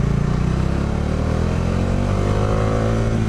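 A Bajaj Dominar 400 motorcycle engine roars loudly and steadily up close, its deep throaty rumble rising in pitch as it revs.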